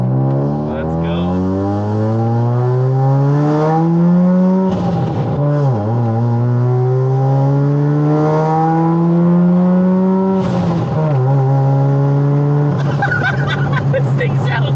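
A loud bridgeport-ported rotary engine in a 460 hp Mazda RX-7 revs hard through rising gear pulls, with brief drops at each shift, buzzy and raspy up close.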